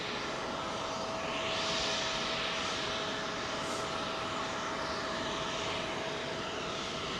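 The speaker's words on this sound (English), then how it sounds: "That's an ATR. Logan Air ATR." Logan Air ATR turboprop at Heathrow gives a steady, moderately distant engine drone with a faint tonal hum and a brief swelling whoosh near the middle, heard alone without talk.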